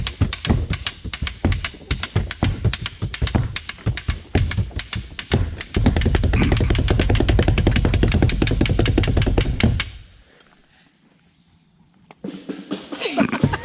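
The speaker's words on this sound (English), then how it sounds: "Totally an impromptu drum battle between the boats" An impromptu drum battle between sailors banging on boats, rapid, loud hand taps and thumps in busy rhythms, shifting to a heavy continuous pounding roll, then a brief near-silent pause before the tapping resumes.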